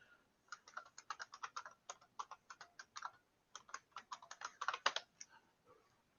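A password is typed on a computer keyboard in bursts of quick, light key clicks with short pauses between runs, fairly faint and close, with no talking.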